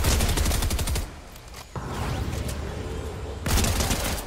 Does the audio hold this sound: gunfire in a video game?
yes